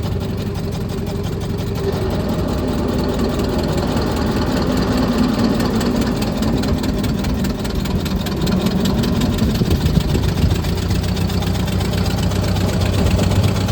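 A 1921 Ford Model T pickup, custom built from a sedan, idles steadily with a low, continuous engine rumble throughout, close and fairly loud with no talk.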